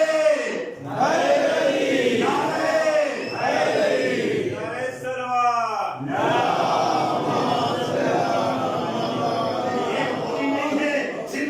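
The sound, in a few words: audience chanting slogans together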